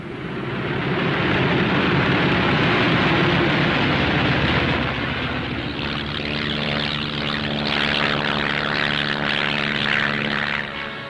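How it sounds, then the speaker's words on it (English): WWII propeller bombers take off in a steady, loud engine drone that roars continuously, shifting into a rougher, pulsing tone partway through as another plane follows at close range. "a first flight takes off in the sunrise, others following at regular intervals"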